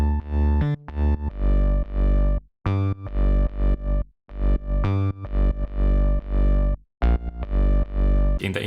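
Bass synth patch from a weekly electronic track project plays a series of loud, sustained low notes in short rhythmic phrases separated by brief gaps, alone with no talk.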